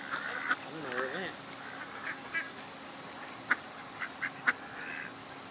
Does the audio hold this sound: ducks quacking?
yes